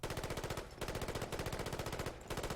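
An unsuppressed GIAT FAMAS rifle from a Fallout 4 mod fires in three rapid full-auto bursts, each a dense rattling stream of loud shots separated by brief pauses.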